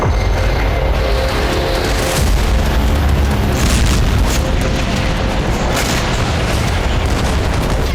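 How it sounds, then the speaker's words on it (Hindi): A sustained, roaring explosive rumble with a dense low boom that fills the whole stretch, loud and continuous with no voices. "हर घंटे नया बारूदी धमाका हो रहा है।"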